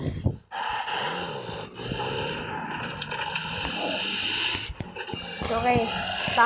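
A dog snorts and huffs nearby in the battle-royale game PUBG (BGMI), with repeated puffing breaths among game sounds and people talking over it.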